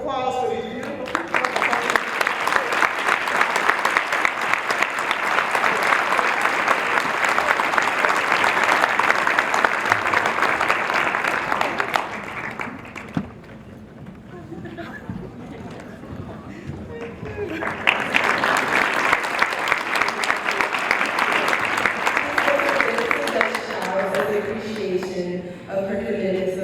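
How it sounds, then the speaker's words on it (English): Audience at an awards celebration applauding, a long burst of dense clapping that dips briefly in the middle, where a voice talks, then swells again, filling a large room. "another round of applause for these beautiful people"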